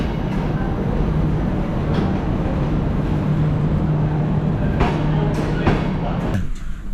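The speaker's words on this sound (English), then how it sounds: "Train should be leaving soon" A train sits at a station just before departure on a journey through Transylvania, its steady low rumble and idling hum continuing loud and close, with a few sharp clanks near the end.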